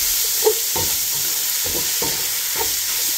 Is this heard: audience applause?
no